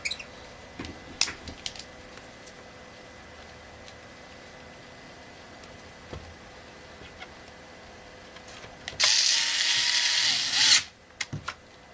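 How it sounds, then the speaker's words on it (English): A power driver runs screws back into a TiViBox Slim case built around a laptop motherboard, giving one loud whirring burst of about two seconds near the end, after quiet handling clicks. "now I just got to put the screws back in"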